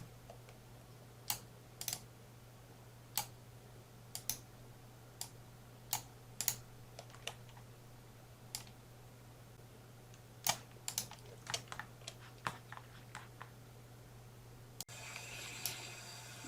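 Sparse, isolated computer keyboard clicks as Ctrl+C and Ctrl+V shortcuts are pressed while building a virtual world in Zepeto Build It, quiet and close, with irregular single taps and short bursts and no talking.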